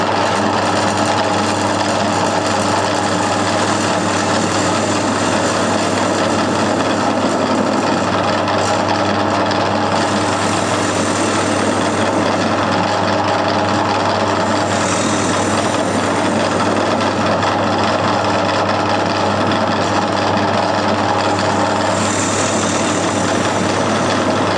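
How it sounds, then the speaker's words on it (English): A wood lathe cuts a recess into the bottom of a turned bowl, a steady continuous whirring rasp with a low hum, loud and unbroken throughout with no talking. "So I'm just going to make the recess now in the bottom of the bowl"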